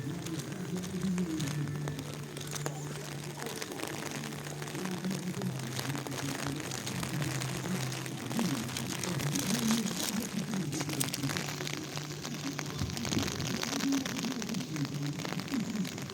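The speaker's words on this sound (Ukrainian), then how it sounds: "дощ поливає." Heavy downpour at the spa pump room in Truskavets, a dense steady hiss of rain hitting surfaces with faint crackling, continuous for the whole stretch alongside a low background hum.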